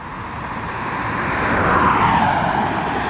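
A car drives over an earthquake-damaged highway near Ridgecrest with a slight depression in the road: a loud, broad tire-and-engine roar that swells as it passes close and then eases slightly, with no distinct thump standing out.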